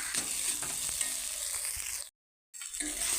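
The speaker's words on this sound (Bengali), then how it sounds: "এখন মুলোটা ভেজে নেব" Radish pieces frying in a pan give a soft, steady sizzle with faint stirring clicks, cutting to a brief silence before the frying noise returns.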